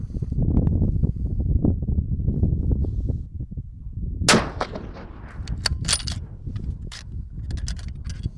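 A single sharp crack of a 6.5x55 Sweedmoor rifle cuts through steady outdoor wind rumble during a sight-in at the range, followed by a few faint metallic rattles.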